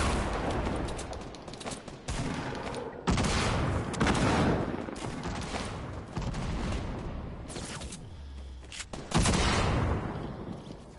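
Dense bursts of video game gunfire and explosions, loud and continuous with heavy booming blasts, rapid volleys overlapping throughout a chaotic squad firefight.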